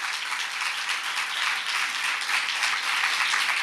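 A church congregation claps together during a sermon, a dense, even wash of applause that holds steady throughout with no voices rising above it.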